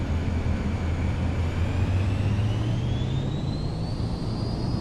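In Microsoft Flight Simulator 2024, an aircraft takes off from Queenstown, New Zealand. A steady engine roar climbs in pitch as power builds, loud and continuous with a rising whine on top.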